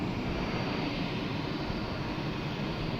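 A FedEx Boeing 767 jet arriving at Boston Logan Airport, heard as a steady, broad engine roar that holds at an even level throughout, heard from a distance with no voices.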